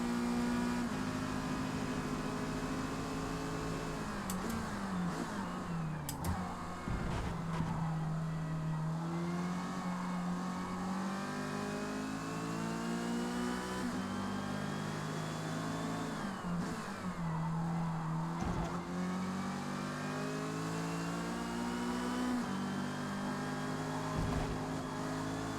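Race cars in Forza Motorsport roar through a close racing battle, engines whining through repeated upshifts and downshifts, with several cars audible together and a steady, loud, continuous drone the whole time.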